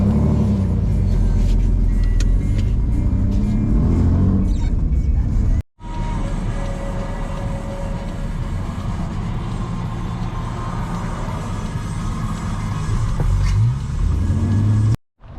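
A car with no clutch, started in gear and pulling away after a burnout session, gives a loud continuous engine rumble that cuts out briefly and then resumes, steady and close.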